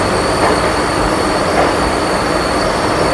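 A small local train on the Howrah–Belur Math line turns off beside the Liluah workshop, giving a loud, steady roar of wheels with faint squeal and no voices.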